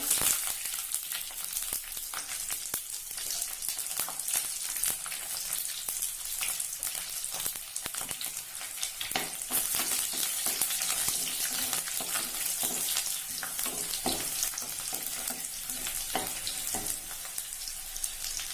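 Curry leaves and garlic fry in hot oil, a dense crackling sizzle with sharp pops and spatters that stays loud and steady from start to finish.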